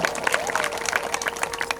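A crowd at a Shivshahir folk-performance event in Yelnur gives brisk, moderately loud applause, with a few scattered cheers running through the short burst of clapping.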